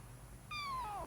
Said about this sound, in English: my kitty is here